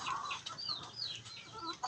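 Backyard pet hens cluck and chirp softly nearby, a few overlapping short calls over light outdoor background noise.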